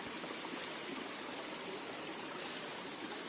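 A flowing stream rushes in a steady, dense wash of water noise, close and even throughout, with no voices.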